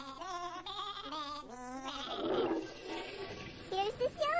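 Sheep crowded in a bathroom give a run of wavering, nasal bleats, followed by a gushing, water-like rush, with voices present.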